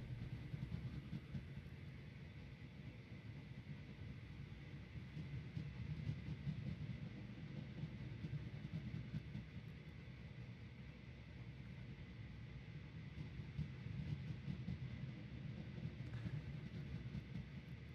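A low, steady rumble of a train in the video game Train Valley 2 running continuously at an even pace, with no voices.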